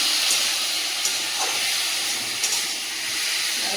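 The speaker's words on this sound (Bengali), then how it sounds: "কচু আলু টমেটো সব মশলা একসঙ্গে কষিয়ে নিচ্ছি।" Taro, potato, tomato and spices frying together in a pan, a steady loud sizzling hiss throughout with faint stirring knocks.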